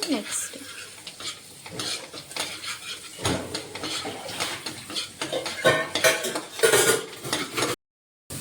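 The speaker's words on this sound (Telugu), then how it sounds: "గార్లిక్ బాగా ఫ్రై అవ్వాలి." Garlic fries in a hot pan while it is stirred, a soft sizzle broken by repeated scraping and clinks of the utensil against the metal, close and continuous.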